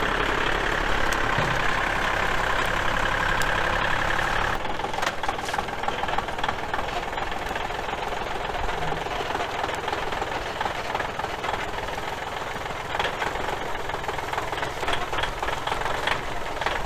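Farm tractor engine running steadily nearby, a loud continuous rumble with a knocking, throbbing tone that shifts slightly partway through as the load changes, with no talking.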